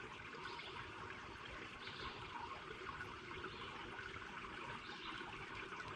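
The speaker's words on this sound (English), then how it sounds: "Can you all hear that water?" Water trickles in a small creek in a nature preserve, a faint continuous babbling wash heard alone, without talk.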